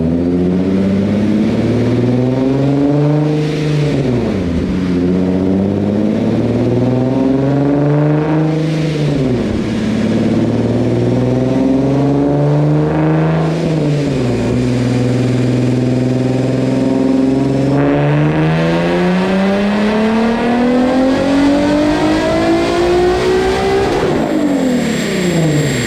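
A Stillen-supercharged 2014 Nissan Nismo with an air-to-air intercooler on a stock motor, running an E85 tune, revs hard in a series of loud, close rising and falling sweeps with no talking.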